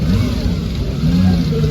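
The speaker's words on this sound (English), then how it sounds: "We've got the Fiat 8V Supersonic, which looks like it's just about to start up here." A Fiat 8V Supersonic engine runs loud and close at an outdoor car auction, a rough, throbbing mid-pitched note with a slight rise in revs partway through.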